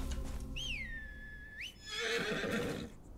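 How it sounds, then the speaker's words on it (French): A horse neighs in the video game Game of Thrones Kingsroad, one loud drawn-out whinny with a rising and falling pitch, followed by a rougher snorting burst over steady game background sound. "Allez, viens par là, mon cheval."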